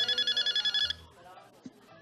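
Telephone bell ringing in rapid pulsed trills for about a second, then stopping, followed by quiet shuffling and talk.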